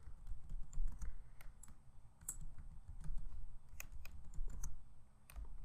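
Soft, steady clicking of computer keyboard keys as a new user password is typed, irregular taps close by and quiet, with no talking.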